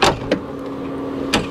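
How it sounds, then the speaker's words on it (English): Soft-close door mechanism on a Mansory-modified Mercedes G63 pickup pulling shut: a short thump at the start, a second click, then a faint motor whir and a final latching clunk near the end, close by. "Soft close on a G-Wagon."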